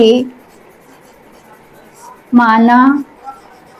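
A teacher writes on a board during a maths lesson, making faint scratchy strokes, and a voice speaks briefly over them in short bursts.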